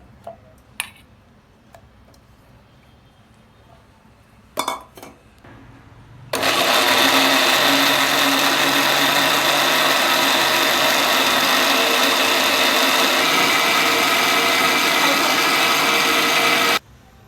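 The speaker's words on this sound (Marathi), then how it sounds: "हे मिक्सरला मस्तपैकी फिरून घेतलंय" A mixer grinder blends pineapple chunks in its jar, starting after a few light clicks and handling knocks and then whirring loudly and steadily for about ten seconds before cutting off.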